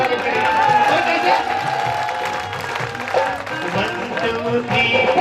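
Audience clapping and cheering at a live ragni performance in a Haryana village, a dense sustained burst from a large outdoor crowd, loud and continuous with a voice over a sound system mixed in.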